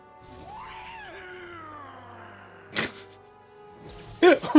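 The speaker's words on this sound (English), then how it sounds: "He just does like a fucking insane scream at the end of that." Enemy in the PS2 game Devil May Cry 2 lets out a long, wavering scream that slides downward and trails off, followed by sharp impact thuds and a harsh final burst of noise near the end.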